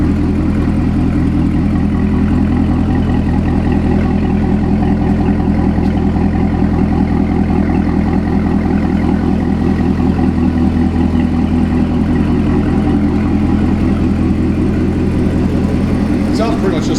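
A loud C7 Corvette Z06 engine with an aftermarket AWE exhaust rumbles close by with a deep, steady exhaust drone that barely changes pitch.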